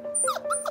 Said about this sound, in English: Just look at this pretty dog.